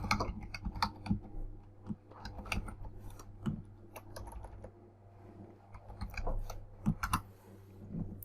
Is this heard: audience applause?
no